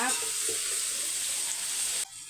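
Onions sautéing in a pan for chicken biryani, a dense, even sizzle with a high hiss, close and steady for about two seconds before it drops away abruptly.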